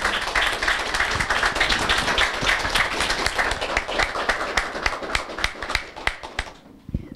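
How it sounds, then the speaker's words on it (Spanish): Audience applause at an anniversary celebration for a Dominican news outlet, dense continuous clapping that thins into scattered individual claps before fading to quiet. "Aplauso realmente bien merecido."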